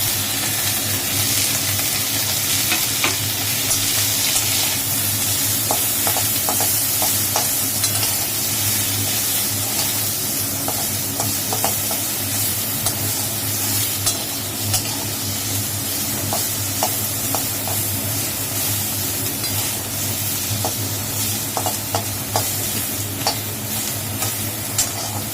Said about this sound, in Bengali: এর মধ্যে ডাল আর চালটা দেবে, এটা ভাজা ভাজা হোক।